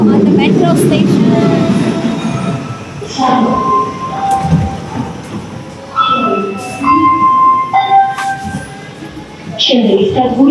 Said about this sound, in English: Now we are going to go on the metro station.